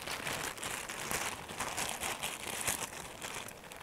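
Scissors cutting along the sides of a plastic bag, a soft continuous crinkling and rustling close by, fairly faint, with no talk.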